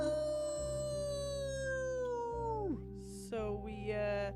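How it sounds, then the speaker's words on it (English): A Houndoom, a fire-dog Pokémon, lets out a long sustained howl over a musical backdrop, its tone sliding slowly downward before breaking off and rising again, loud and drawn out. "And then it rears back its head and howls."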